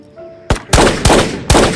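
Gunfire in the video game Ghosts of Tabor: four sharp, loud shots in an irregular burst, each cracking hard and then ringing out briefly, with no speech over them.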